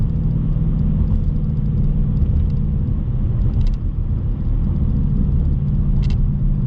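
2020 Ford Mustang Bullitt engine rumbling steadily and close inside the cabin while driving, a deep constant drone with faint crackles from the exhaust, no talking.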